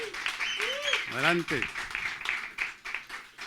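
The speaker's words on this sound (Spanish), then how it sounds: "Un aplauso." A studio audience on a Spanish-language talk show featuring dubbing actors applauds to welcome a guest. The steady clapping runs underneath a voice speaking over it.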